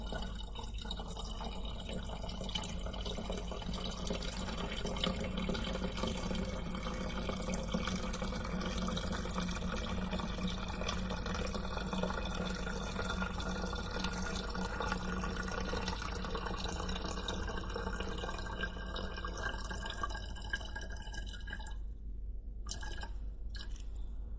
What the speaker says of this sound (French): une bouteille qui se remplit petit à petit avec un son d'urine